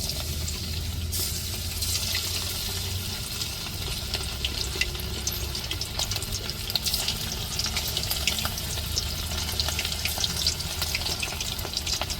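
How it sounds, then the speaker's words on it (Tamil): Prawns for prawn 65 deep frying in hot oil on a home stove, a steady, dense crackling hiss that carries on without pause for the whole stretch, fairly close and even in loudness. "இப்போ நம்ம விரைவி வச்சுருக்கிற ராலையெல்லாம் அப்படியே பொறிச்சு பொறிச்சு எடுப்போங்க எண்ணெயில் போட்டு"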